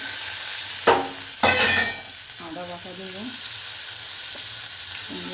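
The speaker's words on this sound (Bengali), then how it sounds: "তোমার পেঁয়াজ প্রায় লাল করে ভাজা হয়ে গেছে। এই পর্যায়ে আমি টমেটোগুলো দিয়ে দেবো" Onions browned almost red sizzle steadily in a pan as tomatoes are added, a low continuous frying hiss with a couple of louder clattering bursts early on and a voice speaking over it.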